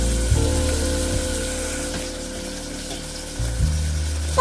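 Tomatoes sauté in a pan for chicken curry with a steady, loud sizzle, joined by a continuous droning hum that drops out briefly near the end.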